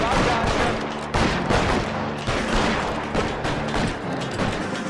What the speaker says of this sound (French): Ça tire du gros calibre ça